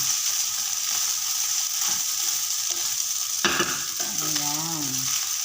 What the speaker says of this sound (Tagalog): mahirap maghalo nang hindi ko mahawakan itong kawali at sumasayaw-sayaw